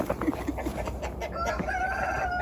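A rooster crows over continuous farmyard clucking and background noise on a snowy farm, the crow drawn out and fairly close.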